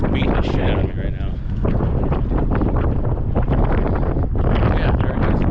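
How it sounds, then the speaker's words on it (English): Strong gusts of around 30 miles per hour buffet the microphone of a cyclist riding near Pensacola, a constant loud rumbling roar with surging pulses and a voice talking faintly underneath. "this wind is just, it's like 30-mile-an-hour gusts"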